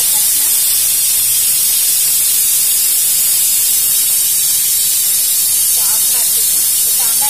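A pressure cooker cooking sambar releases steam in a loud, steady hiss that runs unbroken for several seconds.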